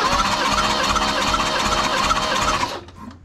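A BMW engine cranks over on the starter during a compression test, a loud, rapid, even whirring chug that runs steadily for over two seconds, then cuts off abruptly, leaving a faint hum.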